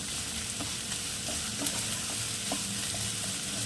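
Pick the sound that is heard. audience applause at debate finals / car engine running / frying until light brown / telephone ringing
frying until light brown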